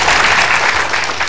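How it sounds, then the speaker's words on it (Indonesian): A studio audience on an Indonesian health talk show claps in a brief, dense burst of applause. "mohon tepuk tangan sekali lagi"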